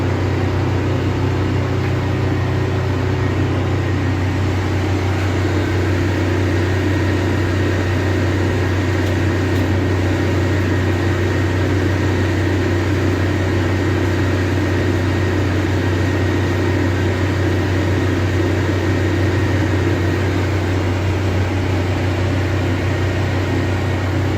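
A diesel generator in an off-grid power system runs under roughly 3,500 watts of load, giving a steady, unbroken engine drone with a constant hum throughout, fairly close and with no voices.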